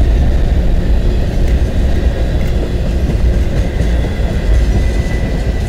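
Freight train rolling past on the Dundas Subdivision in London, Ontario, a loud, continuous close rumble and roar of railcars with faint rhythmic wheel clatter throughout.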